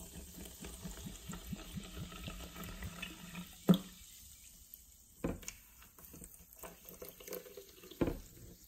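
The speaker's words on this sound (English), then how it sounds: "Let's pour some water in." Mineral water pours into a small test cup in a steady trickling stream for several seconds, followed by a few sharp clinks and handling knocks in a quiet room.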